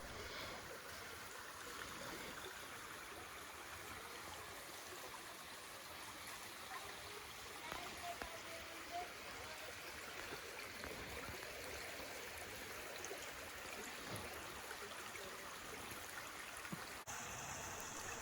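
A stream flows steadily through Devil's Eyebrow Natural Area, its water rushing and trickling in an even, continuous wash of moderate loudness with no voices over it.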